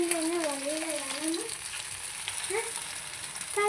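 Sabudana vada frying in hot oil, a steady bright sizzle and crackle running throughout, with a faint whistling tone early on and a brief clatter at the end.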